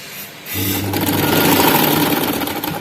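A sewing machine runs steadily while stitching a frock, its motor starting after a brief pause and whirring continuously and close by, with no talk over it.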